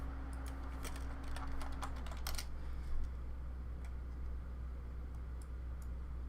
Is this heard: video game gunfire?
no